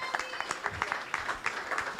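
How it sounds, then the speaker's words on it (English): An audience at a Culturama 50 cultural celebration event claps steadily in a continuous round of applause, moderately loud and close, with some crowd voices mixed in. "Can we give him another round of applause,"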